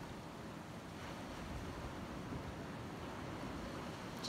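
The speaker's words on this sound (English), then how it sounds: "And just listen to the sounds of the ocean" Steady ocean surf washes continuously, a soft broad roar with no pauses or voices.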